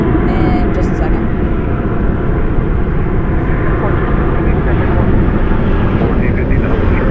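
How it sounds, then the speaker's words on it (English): An airliner at Dallas/Fort Worth airport at night produces a loud, steady roar of jet engine noise throughout, with a faint higher tone drifting through the mix. "we'll go to the arrival coming in from Montego Bay, flight 757"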